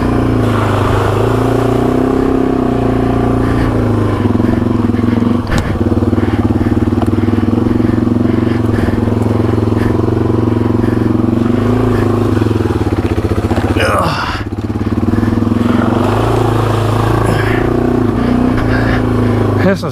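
A Yamaha TW200 dual sport motorcycle rides through mud on a trail in Michigan's Upper Peninsula, its single-cylinder engine droning loud and steady up close with slight surges and a brief dip near the middle, plus wind buffeting.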